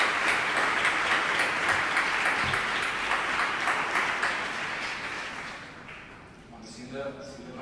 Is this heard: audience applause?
yes